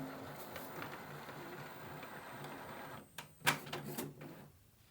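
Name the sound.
Epson ET-3950 printer printing a page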